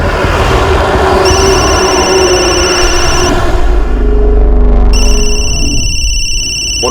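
A telephone rings with repeated electronic tones over loud background music, the ringing shifting pitch partway through, no talk.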